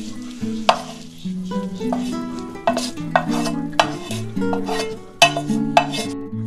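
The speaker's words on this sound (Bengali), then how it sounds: "আমি সমস্ত সবজি দিয়ে আমি মিক্স করে দিলাম ভালো" Pre-fried vegetables being stirred into cooked rice in a pan for vegetarian fried rice: steady scraping and stirring with sharp spatula clinks every second or so, over continuous background music.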